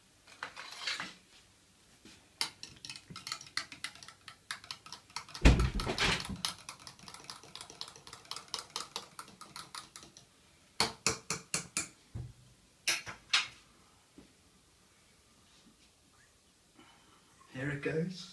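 Spoon stirring Coke cherry topped into a drink in a glass, bursts of quick clinking taps in several clusters with quiet gaps between, close and fairly crisp, with a person talking at times.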